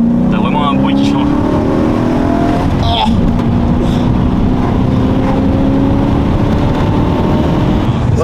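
An ethanol-fuelled V8 car engine, running on beet-based fuel, revs up past 3000 rpm with a steady, loud drone whose pitch climbs and shifts; a brief dip near the middle, with a voice speaking faintly over it.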